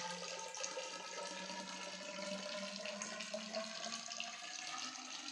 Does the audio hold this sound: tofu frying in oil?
no